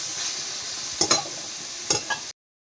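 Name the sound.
greens (shak) with lentil dumplings frying in a pan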